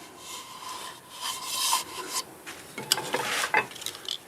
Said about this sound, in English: I think we are ready to sand the inside.